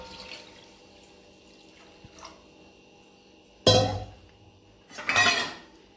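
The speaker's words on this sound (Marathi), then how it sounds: "याच भांड्यात पाणी घेणार आहोत." Water pours into a pot for making Maharashtrian yogurt kadhi, in two short splashing bursts separated by a quiet pause with faint kitchen background.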